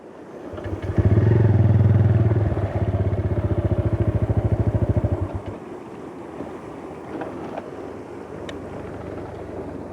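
A motorcycle engine roars loud and close for several seconds on a rough riding route with no proper road, its pulsing throb then fading and leaving wind buffeting the microphone.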